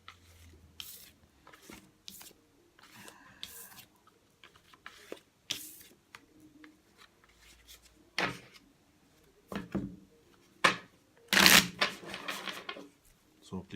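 Tarot cards being shuffled for a love reading spread, heard as a series of close, crisp riffling and flicking bursts of varying length with quiet gaps in between, ending in a louder flurry.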